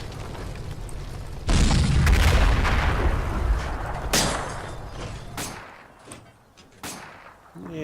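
Artillery rounds land in a Combat Mission wargame: a heavy, rumbling boom hits first and rolls on for a couple of seconds. Several sharper distant blasts follow.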